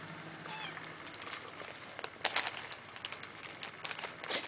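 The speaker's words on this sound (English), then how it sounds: "he's meowing because he wants up" A pet cat gives a few faint, short meows early on, followed by quiet rustling and scattered soft knocks and taps nearby.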